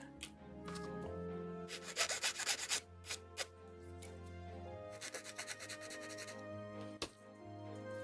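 Bursts of dry rasping and grinding from a small hand drill biting into a plastic part of a 1/72 HG Bandai AMAIM Ghost model kit, coming in short uneven spells over a steady low background hum.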